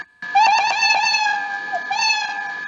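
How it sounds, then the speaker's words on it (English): A cat meow sound effect plays from the Scratch coding program, a clear, bright electronic-sounding meow, loud and alone, with a short rising call and a second shorter meow near the end. "like when I'll press A, it will meow."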